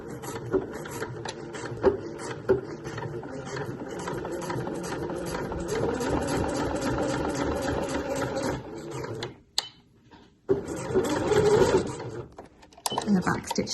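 A sewing machine runs a straight stitch at about 2.8 length, a fast steady whirring hum that pauses briefly near the end before starting again, with quiet talk over it.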